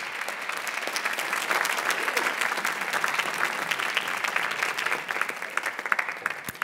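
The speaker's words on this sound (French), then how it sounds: "Merci d'applaudir Alexia Laroche-Joubert, Stéphane Sibon-Gomez et Gilles Fressigné" Audience applause fills a radio studio at the Maison de la Radio et de la Musique, a steady, dense patter of many hands clapping close by, sustained without pause and with no speech over it.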